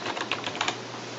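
Quick, light keystrokes clatter on a computer keyboard in a short burst of irregular taps, close and fairly quiet, with no voices.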